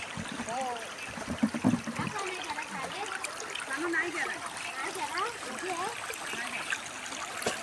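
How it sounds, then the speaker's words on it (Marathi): Flowing stream water where women wash clothes outdoors, a continuous close trickle and splash with voices and chatter mixed in throughout. "वाहतं पाणी आहे बघा"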